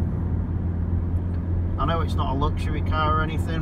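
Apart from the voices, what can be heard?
tyre road noise inside Toyota C-HR Hybrid on 18 inch wheels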